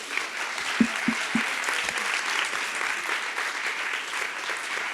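An audience applauds seniors after their project presentations at a school event, steady sustained clapping from a room of people with a few sharper close claps early on.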